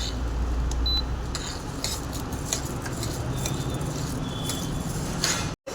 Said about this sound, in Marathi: ही हरभऱ्याची डाळ थोडीशी हलवायची, थोडीशी छान त्याला भाजून घ्यायचं